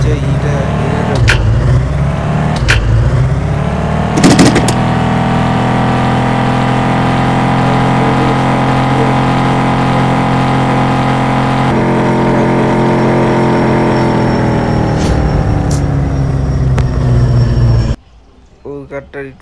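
Race cars accelerating in the Car Dealer Simulator video game: a loud, continuous engine drone that climbs steadily in pitch as the cars speed up, then drops away abruptly near the end.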